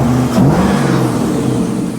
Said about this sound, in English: So as you can hear, the engine is running. I'm gonna rev it up a little.